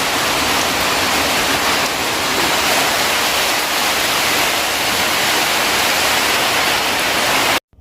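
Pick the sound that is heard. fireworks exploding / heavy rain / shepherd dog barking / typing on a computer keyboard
heavy rain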